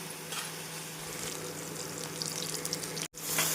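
Steady sizzling and crackling of onions frying in a pan, continuous and close, with a brief cutout near the end.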